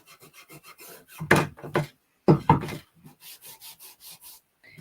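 Hand rubbing a wood surface with wax, a series of short scraping strokes, some soft and quick, others louder and longer, close and alone with brief pauses between them.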